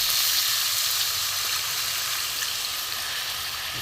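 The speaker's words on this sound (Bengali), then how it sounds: "এবার আমি অল্প করে জল দেবো।" Loud steady sizzling as a little water hits spice masala frying in oil for a fish roe omelette curry, a continuous bright hiss with no voices.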